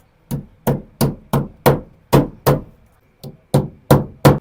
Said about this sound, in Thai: เราก็ตอกตะปูเข้าไปนะครับ